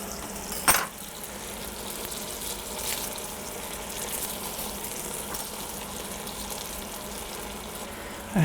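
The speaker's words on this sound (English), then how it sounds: "I'm going to add the garlic. I have here 4 garlic cloves that I'm going to crush in there." Garlic cloves crushed into a pan of browning sausage for Tuscan beans, a steady soft sizzle of frying throughout with one sharp knock near the start and another at the very end, no talking.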